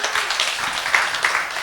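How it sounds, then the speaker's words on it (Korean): A church congregation at a mission-themed sermon gives a short round of applause, a busy patter of many hands with a few louder claps standing out. "박수 한번 주십시오."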